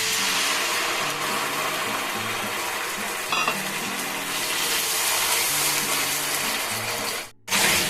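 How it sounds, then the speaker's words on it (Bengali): Warm water hits a pan of spiced okra fry masala curry with a continuous loud sizzle and stirring, then a brief clatter and a momentary drop near the end. "একটু হালকা উষ্ণ গরম জল দিয়েছি"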